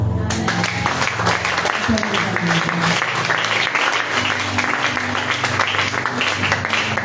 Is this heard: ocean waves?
no